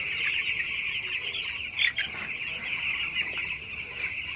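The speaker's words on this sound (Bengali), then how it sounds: "তো মুরগিগুলো আপনারা দেখতে পাচ্ছেন মাশাআল্লাহ খুবই ভালো আছে, সুস্থ আছে, পানি খাইতেছে সবগুলা মুরগি" Eleven-day-old broiler chicks drink water in a shed at night, keeping up a dense, continuous chorus of high peeping and clucking close by, with one brief louder burst midway.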